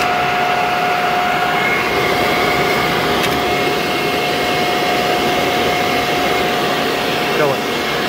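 A Toshiba 3HP TEFC three-phase induction motor, 182T frame and rated 230/460V, runs under power with a loud, steady whirring hum and a constant tonal whine that stays even throughout.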